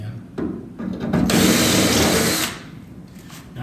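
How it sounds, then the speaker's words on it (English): A power drill bores a hole in a car door panel, the motor whirring loud and steady for about a second before falling back to quieter handling noise, close up with no talk. "Now I'm drilling this hole out fairly large so we have a little playroom."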